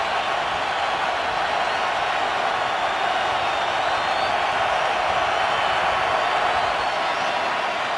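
Steady broadband roar of a stadium crowd at an NFL game between the Carolina Panthers and Houston Texans, a continuous dense wash of noise with no breaks across the whole stretch.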